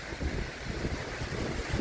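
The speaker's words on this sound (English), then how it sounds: "We're not getting rained on. Just serious wind." Powerful wind blowing on a stormy night, a constant loud roar with rumbling gusts buffeting close to the microphone, no voices.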